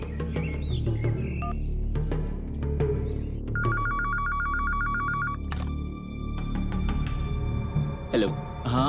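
A home landline telephone in a Hindi TV drama rings in a short repeating electronic trill over background music and ambient sound, fairly close and clear.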